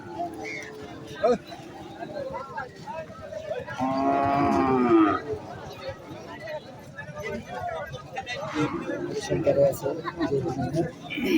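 A cow lets out one long, loud moo at a busy cattle market in Bangladesh, amid a crowd of people talking and moving around nearby.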